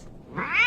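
Lion cub Simba gives a weak roar that comes out like a squeezed cat, a brief rising squeaky cry that swells over under a second.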